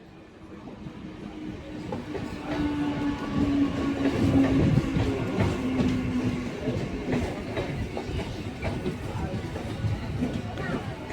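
A local train rumbles steadily along the tracks with rattling wheels and a rising, sustained roar, heard from inside a crowded carriage with faint voices beneath.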